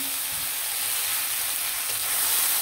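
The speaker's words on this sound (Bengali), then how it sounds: "এখন কিন্তু বুটটি ভেজে নিব" Chickpeas fry in hot oil with a steady, close, broadband sizzle and hiss that holds evenly throughout, with no voices.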